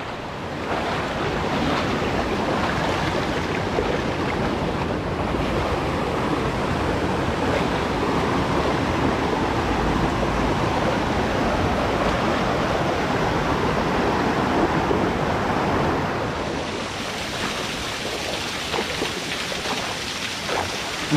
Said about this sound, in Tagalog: Ang daming falls dito